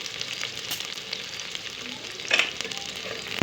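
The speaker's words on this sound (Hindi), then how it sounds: "प्याज को हमें गोल्डन ब्राउन करना है।" Chopped onions frying in hot oil while being cooked down to golden brown for a masala tinda curry, a steady close sizzle with a brief louder crackle and stir near the end, no talking.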